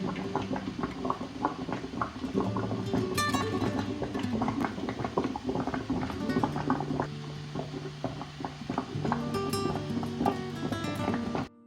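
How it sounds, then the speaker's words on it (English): Water boiling in a pot under a steaming setup for South African steamed bread (ujeqe), a steady bubbling wash running the whole time with clinking and metallic knocks over it. "my water is already boiling"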